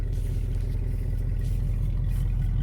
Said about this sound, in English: you can hear that rumble of the exhaust,